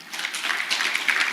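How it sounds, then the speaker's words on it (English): An audience claps together at a Jubilee Health Insurance event, a steady wash of applause that holds for the whole short stretch without any voices. "So once again, clap for yourselves for creating the time to be here."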